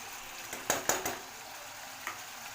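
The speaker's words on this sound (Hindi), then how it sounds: "बहुत अच्छी तरीके से भून लेंगे मसाले को भी हम 3 से 4 मिनट के लिए लो फ्लेम में" Okra masala spices frying in a pan over low flame, with a quiet steady sizzle broken by a few sharp stirring scrapes and clinks.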